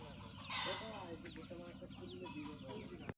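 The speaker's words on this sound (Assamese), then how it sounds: "চাওক মুৰ্গী" Chickens clucking on a farm alongside pineapple plantings and rabbits, several birds clucking close by in quick, overlapping bursts while someone talks quietly and a brief louder squawk rises early on.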